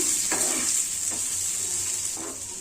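Onions frying in a pan for chicken biryani, a loud, steady hiss of sizzling oil close up, with a few soft scrapes of stirring.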